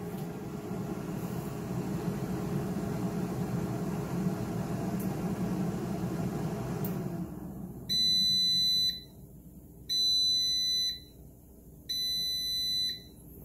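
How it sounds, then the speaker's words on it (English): A Cosori air fryer's steady fan-like whoosh runs while cooking bacon, then stops, followed by three loud electronic beeping bursts, each about a second long with pauses between. "here's that beeping sound"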